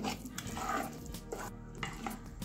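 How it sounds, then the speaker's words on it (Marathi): Cutlet mixture is mixed by hand in a bowl, with a run of close, repeated scraping and squelching strokes in an uneven rhythm and no voices. "आणि बघा अशा प्रकारे याला छान असं आपल्याला मिक्स करून घ्यायचं आहे, म्हणजे सर्व गोष्टी मस्त मिक्स होतील"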